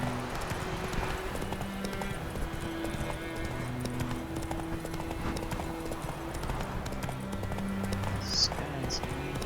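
Horse hooves clip-clopping at a steady riding pace in The Witcher 3, a continuous rhythmic patter under ambient game music, with a brief whinny near the end and talk running over it.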